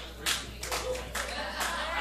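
Comedy club audience clapping at a stand-up show, several uneven bursts of applause rising and falling across the stretch, with some crowd voices mixed in.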